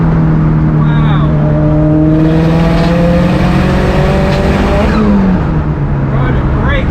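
A 556hp Subaru Impreza STI revs while driving, the engine note climbing and sliding in pitch over steady road and cabin noise, heard from inside the car.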